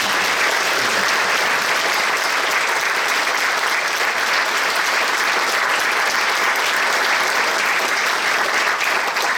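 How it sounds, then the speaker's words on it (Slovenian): A hall audience applauds folk dancers at a live performance, with loud, continuous, densely packed clapping holding steady throughout and no voices standing out. "predlagam, da jim še enkrat zaploskamo, preden se presluša"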